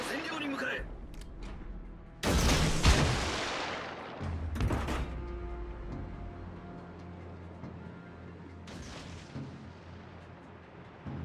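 Warship guns firing in World of Warships Legends: several heavy, booming salvos land seconds apart, each trailing off into a long rumble, with quieter game sounds in between.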